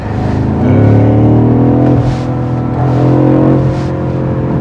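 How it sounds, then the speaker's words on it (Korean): A BMW M550i's loud engine exhaust drones and rises in pitch as the car accelerates through a tunnel, its deep resonant note echoing in the enclosed space. "M 부럽지 않은 터널의 배기음 소리"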